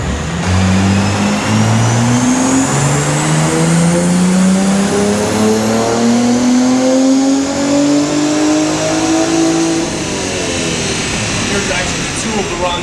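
A manual BMW G80 M3 fitted with a Valvetronic mid-pipe exhaust roars on a dyno, its engine climbing in a long loud pull with rising pitch, then easing off near the end.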